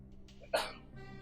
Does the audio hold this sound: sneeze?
yes